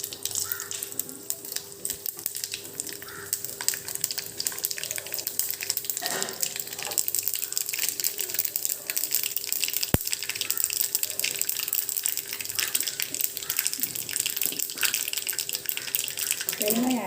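Dried red chillies and mustard seeds sizzle and crackle in hot oil in a home kitchen, a steady close hiss with scattered pops running throughout.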